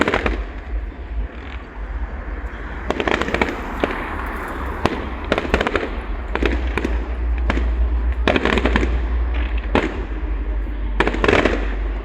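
Fireworks from a Rhyl town display crack and boom in rapid bursts, irregular sharp explosions over a steady low rumble, with faint crowd noise between.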